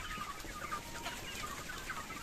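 A flock of hens and roosters clucks steadily and close by, their overlapping calls forming a continuous farmyard chatter with no voices.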